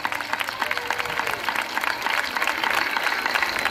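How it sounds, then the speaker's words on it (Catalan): An audience applauds steadily after a children's Sant Jordi song, and the brisk, continuous clapping builds slightly toward the end as scattered voices sound beneath it. "Un aplaudiment, bravo!"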